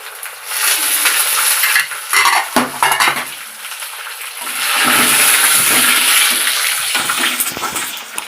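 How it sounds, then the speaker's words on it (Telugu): Mustard seeds, cumin, urad dal, a little fenugreek, dried red chillies and curry leaves sizzle in hot oil for a tempering, with a steady loud hiss and clinks and scrapes of a spoon stirring the pan. "పోపు వేగిందండి"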